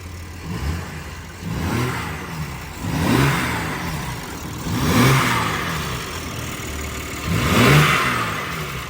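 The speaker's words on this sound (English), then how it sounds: "about to get a stock air intake sound test before" A BMW G80 M3 Competition with its stock air intake revs in four separate, fairly close throttle blips, each rising and falling between a low idle.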